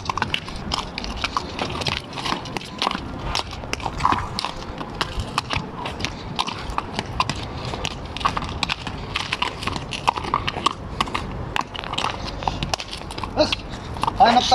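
Steady clip-clop of horse hooves moving over ground in an uneven rhythm, with a voice talking intermittently over it.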